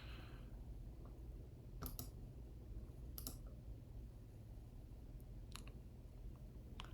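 Quiet mouse clicks at a computer while posting in a web app, a few short isolated taps spaced a second or more apart over a faint steady hum.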